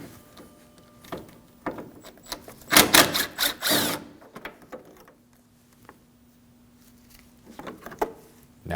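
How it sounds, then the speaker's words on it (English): A hood prop bracket being unbolted with a 10mm tool on a 2013-2015 Subaru XV Crosstrek, heard as close mechanical clicks and a burst of rapid ratcheting, then scattered ticks and a faint hum, with no speech. "We can remove the hood prop bracket with a 10mm."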